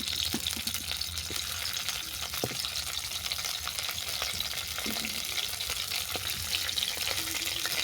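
Broccoli hits hot oil in a pan and fries with a steady crackling sizzle, scattered pops and occasional stirring clinks, close and continuous.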